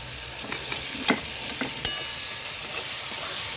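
Soft, steady sizzle of onion paste frying in a pan, with a few sharp scraping clicks as it is stirred.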